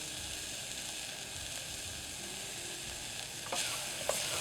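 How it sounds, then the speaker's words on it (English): Vegetables and spices sweat gently in a hot pan, a faint steady hiss running throughout with a couple of soft clinks of a utensil near the end. "So we are just sweating these vegetables and spices until they get a little translucent."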